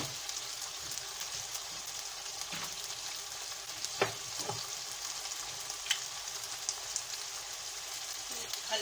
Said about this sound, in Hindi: इसे भूनूंगी थोड़ी देर में।